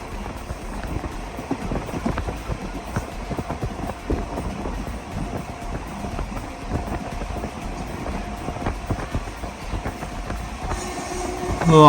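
A local train on the way to Nagapattinam Junction rumbles along the rails, a steady close rattle and clatter of the carriages running continuously throughout with no voices.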